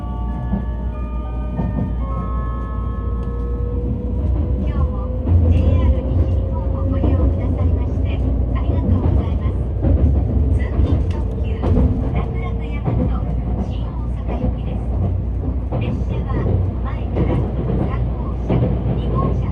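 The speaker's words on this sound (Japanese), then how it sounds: "メルカリの発送方法のような名前の特急は新大阪に向けて時刻通りに出発しました。" Raku Raku Yamato limited express train departs for Shin-Osaka, a steady loud rumble of wheels and motors with rising tonal whine, close by and continuous throughout.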